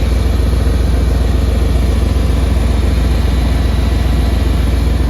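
A 1994 GMC Suburban K1500 4x4 idles steadily, its low engine rumble and even exhaust pulses running unbroken and fairly close, not especially loud, with no voices.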